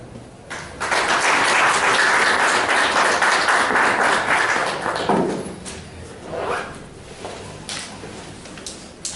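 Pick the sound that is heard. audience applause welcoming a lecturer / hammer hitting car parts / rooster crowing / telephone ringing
audience applause welcoming a lecturer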